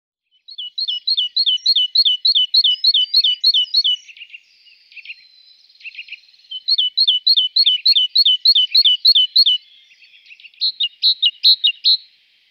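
Small birds in the Palaiseau nature reserve sing rapid, evenly repeated chirp phrases in two long bursts and a shorter third, bright and fairly close, with nothing else heard.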